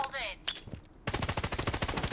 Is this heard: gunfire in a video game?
yes